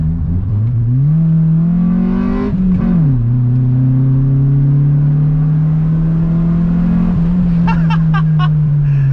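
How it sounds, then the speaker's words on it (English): A race-spec car revs and accelerates loudly from close inside the cabin, its engine tone climbing through shifts and holding a strong drone, with brief clicks near the end. "This is like the full, this is the race spec car."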